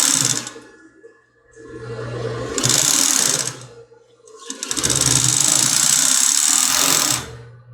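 A sewing machine stitches a padded bra in three loud whirring bursts separated by brief quiet pauses, close and alone.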